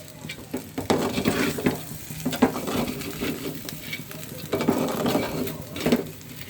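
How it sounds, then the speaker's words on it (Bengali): Onion, dried chili, turmeric and garam masala spices frying and being stirred in a pan for khichuri, with steady sizzling broken by repeated scraping stir strokes close by, no talking. "সব মশলা দিয়ে এখন মশলা কষাইতেছি"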